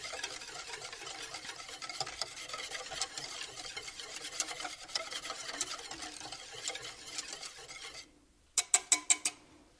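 A spoon stirs banana pudding custard in a pot, a steady scraping swish that continues for several seconds, then a pause followed by a few sharp taps against the pot's rim.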